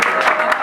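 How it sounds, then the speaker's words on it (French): Audience applause at a choir competition final in Congo, a loud, dense burst of clapping from a crowd. "Sous vos acclamations."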